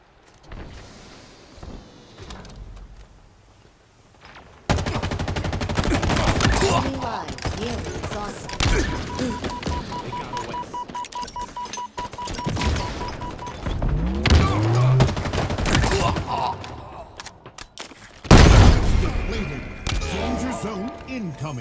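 Gunfire and explosions from a Halo Infinite Cyber Showdown attrition match on Xbox Series X, loud and continuous: dense bursts of shooting with heavy booming blasts near the middle and a big impact toward the end, with game voice announcements over it.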